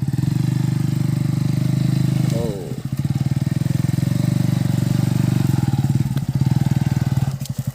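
A motorcycle fitted with an Rs200 exhaust running close by, a loud throbbing engine note that dips briefly and then revs back up in pulsing bursts before settling again.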